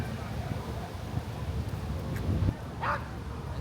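A small dog barks outdoors in a large New York park, a few brief yaps heard at a distance over steady wind and background noise.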